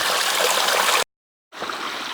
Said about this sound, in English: This water, what you hear and see, is not a stream, it's the trail.